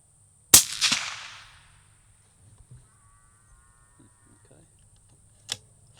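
A 6.5 Creedmoor rifle fitted with a CanCo suppressor fires one sharp, loud shot with a quick echoing tail, followed by faint clicks and a second shorter crack, no voices.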